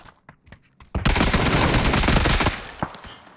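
A sudden sustained burst of rapid automatic gunfire in PUBG erupts after a few sharp clicks, roaring loudly for about a second and a half before trailing into scattered shots.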